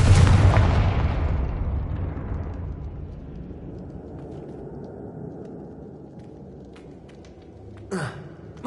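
A booming Confringo spell blast in the Hogwarts Legacy video game, a loud close explosion that rolls into a long fading rumble, with a smaller sharp burst near the end.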